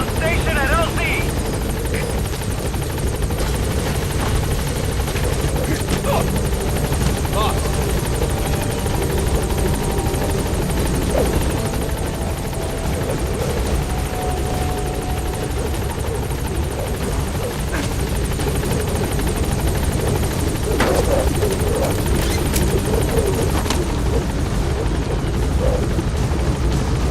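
Metal Gear Solid V: The Phantom Pain's B-Quad support helicopter hovers on station at a landing zone, rotors beating loud and steady throughout while game voices talk over it.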